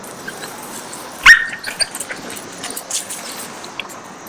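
During a recall training lesson, a dog lets out one sharp, high yip, close and clear over a quiet background, followed by a few faint softer sounds.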